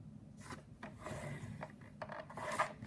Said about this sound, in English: you're going to score it again at 1 inch. And 4 inches.